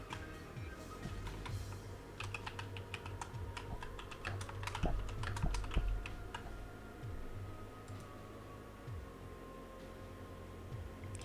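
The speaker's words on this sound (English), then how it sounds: "Let's type in the cold foam." Keystrokes on a computer keyboard while entering a cold-foam coffee drink into a calorie-tracking app, tapped in irregular bursts of close, crisp clicks over a quiet room with faint background hum.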